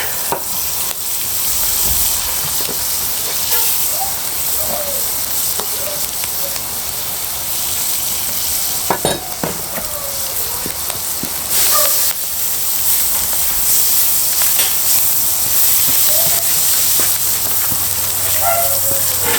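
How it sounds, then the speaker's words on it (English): Garlic sautés in butter in a pan at a campsite fire pit, a steady close sizzle and frying hiss with occasional stirring scrapes and clinks throughout. "We're just looking for a nice little saute on that garlic."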